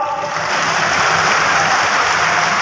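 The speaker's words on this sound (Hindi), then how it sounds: "इधर से जोर से ताली बजा के बताओ।" Crowd at a government foundation-stone ceremony in Devtalab clapping loudly, a dense, continuous roar of hands with no gaps, filling the whole moment close and steady.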